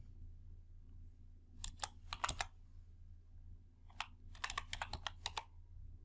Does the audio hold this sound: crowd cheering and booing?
no